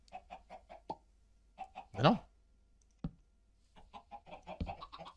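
Chickens in Minecraft cluck in quick repeated bursts, with a louder squawk in the middle, while a person briefly speaks.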